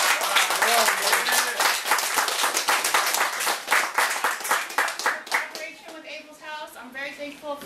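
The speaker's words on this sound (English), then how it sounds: "Let's give a round of applause for them." An audience at a life-skills program graduation bursts into loud, steady clapping that tapers off as a voice begins speaking over the last few seconds.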